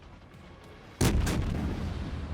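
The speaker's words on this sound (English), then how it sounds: "The König actually did appear to fire towards Kopaz" Heavy battleship main-gun salvo in World of Warships, the König firing its naval artillery: a sudden loud boom after a quiet stretch, followed by a second blast and a long rumbling tail.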